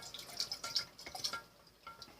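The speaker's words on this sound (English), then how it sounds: "And you want to keep stirring, or at least keep it moving." Lye solution being stirred in a container, producing quiet liquid sloshing and dripping sounds with small irregular splashes, close and soft, with no voices.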